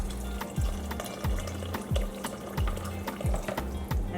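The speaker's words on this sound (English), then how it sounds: "So now I'll be adding some water from the kettle to bring up that liquid." Water from a kettle is poured into a pot of Jamaican stew peas with turkey neck, a steady trickling splash over faint sizzling, with a few intermittent clinks.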